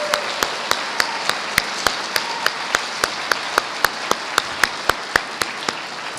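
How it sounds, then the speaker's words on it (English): Audience applause at a Christmas musical fireside, with one nearby pair of hands clapping in a crisp, evenly spaced beat over a softer spread of crowd clapping. "A round of applause for Brandon"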